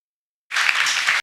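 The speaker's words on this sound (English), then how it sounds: "Give him an applause." Audience applause bursts in after a moment of silence and holds as a steady, dense clapping wash until the end, recorded during a Srimad Bhagavatam presentation and evaluation session.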